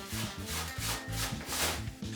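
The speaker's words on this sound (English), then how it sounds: "I'm using a 7mm drill bit to drill through the wood" A drill fitted with a 7mm bit bores through a wooden guitar hanger, giving a close, continuous grinding and rubbing with a slight pulsing rhythm.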